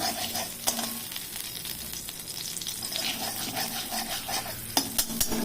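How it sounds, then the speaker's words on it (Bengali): Hot oil sizzles and crackles steadily as spices including fenugreek seeds fry in a wok, with a few light scrapes and taps of a utensil against the pan. "পরে ফোড়ন দিচ্ছি এটাই একটু অন্যরকম মেথিও ফোড়ন দিয়ে"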